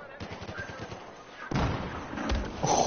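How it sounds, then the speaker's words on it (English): A Battlefield match where a sniper shot lands among distant in-game gunfire and ambient battle noise, with a sharper loud crack midway followed by continued rumbling shots. "Oh fuck, I got sniped."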